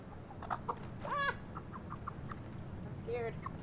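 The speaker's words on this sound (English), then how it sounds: "This is our new rooster." A rooster gives several short clucks and a couple of louder, drawn-out calls, fairly close, over a soft background hum.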